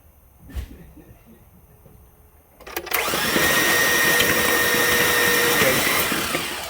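A 5.3 V8 with a smoking problem cranks over steadily and loudly for several seconds after a short quieter lead-in with a brief clunk.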